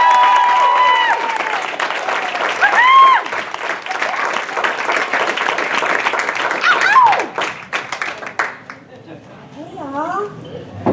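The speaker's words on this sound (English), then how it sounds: "A big round of applause for the very funny Shelly Smith" Loud audience applause and cheering for stand-up comedian Shelly Smith fills the room continuously, with whoops rising above the clapping before it thins out near the end.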